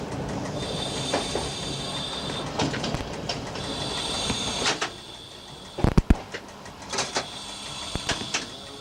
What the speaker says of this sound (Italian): Ed ecco il nostro treno fermarsi a Volčija Draga.